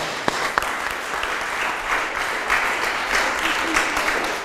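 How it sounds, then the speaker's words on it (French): An audience at a French reading or seminar breaks into applause, a moderate, continuous clatter of many hands with a few louder individual claps near the start, heard at some distance. "vous pouvez applaudir, comme moi"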